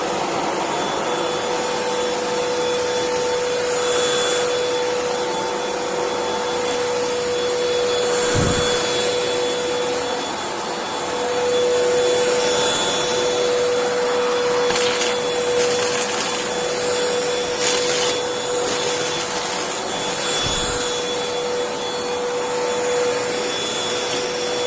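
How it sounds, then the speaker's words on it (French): Amazon Basics cordless 2-in-1 vacuum cleaner with a BLDC motor running close by, a loud steady motor whine with a constant high tone and brief dips and surges as it sucks up bits from the floor. "J'allume l'aspirateur."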